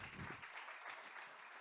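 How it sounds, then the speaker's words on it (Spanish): Church congregation applause, a brief, quiet patter of many hands clapping at a distance, fairly even over a short moment. "Den un aplauso al Señor porque es su palabra"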